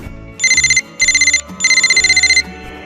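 A telephone rings with three bursts of a bright electronic trilling tone, near and loud, separated by short pauses over a faint low background.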